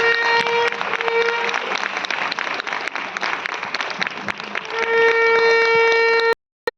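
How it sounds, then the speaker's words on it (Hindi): Audience applause at a Christmas Eve church gathering in Delhi, continuous dense clapping with a sustained tone running underneath, cutting off abruptly near the end. "जोरदार तालियों के साथ"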